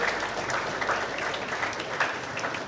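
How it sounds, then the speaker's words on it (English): Steady applause from an audience at an institutional workforce event in Coimbatore, continuous, dense clapping heard from a moderate distance without a break. "Just give him a big round of applause."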